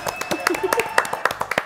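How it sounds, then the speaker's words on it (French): Studio audience of a French New Year's TV variety show clapping in scattered, uneven bursts rather than a full ovation, with voices and tonal sounds mixed in across the short stretch. "Applaudissements, s'il vous plaît."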